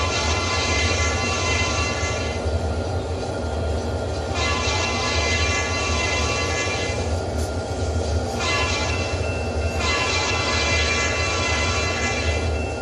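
Locomotive running in the Trainz railway simulator, a steady rumbling rail drone with a continuous hum and shifting high-pitched tones, carrying on without pause at a constant level.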